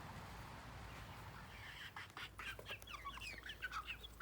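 Soft clucking and chirpy bird calls from a small flock, starting quiet then growing busier over a steady outdoor hum.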